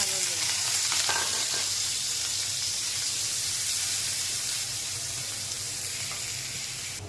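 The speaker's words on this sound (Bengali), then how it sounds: "এখন পেঁয়াজ রসুন ভাজা দেবো।" Chopped onion and garlic fry in a tablespoon of hot oil in a wok, giving a steady, dense sizzle that holds close and loud throughout with little change, no voices over it.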